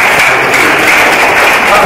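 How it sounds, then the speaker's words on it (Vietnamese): A Protestant church congregation gives loud, close, continuous applause, a thick wash of clapping with voices mixed in. "Hãy vỗ tay cảm tạ với Chúa."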